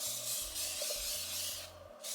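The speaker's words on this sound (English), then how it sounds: "I'm gonna use this Sebastian Shaper spray. Make sure it's spraying first." Sebastian Shaper hairspray hisses from a can in one steady, close spray lasting about two seconds, quiet and unaccompanied, ending in a slight fade.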